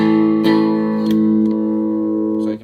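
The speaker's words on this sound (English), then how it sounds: "this is the clean signal." A clean electric guitar signal runs through a homemade retro fuzz circuit, giving a few plucked notes that ring out and sustain clearly, each new pluck starting with a brief attack before the tone decays toward the end.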